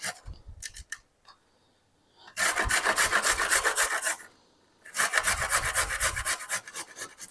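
Carrot rubbed against a small hand grater in two long bursts of quick, even rasping strokes, close and fairly loud, with a few scattered clicks and a short pause between bursts.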